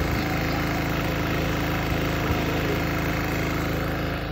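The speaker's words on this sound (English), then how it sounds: "the generator's going low on gas" Portable generator engine running low on fuel, a constant loud droning hum with steady low vibration filling the whole stretch, close by and without pauses.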